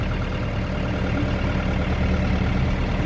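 A steady, low engine rumble runs without a break, like a tractor idling close by, even and continuous throughout.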